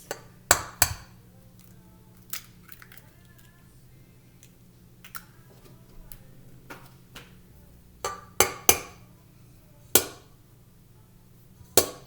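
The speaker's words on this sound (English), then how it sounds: "now I'm going to crack 2 eggs" Two eggs cracked against a bowl while making banana bread, sharp brittle taps and clinks scattered over several seconds, close and crisp in a quiet kitchen, with a few clusters of quick knocks.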